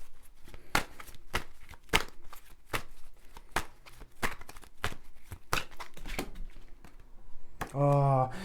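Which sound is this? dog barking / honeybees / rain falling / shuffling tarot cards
shuffling tarot cards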